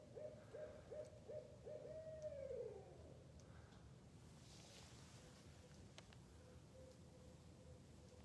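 An owl hooting nearby at night, a rhythmic series of about six low hoots ending in a drawn-out wavering call, followed by quiet background with faint distant sounds.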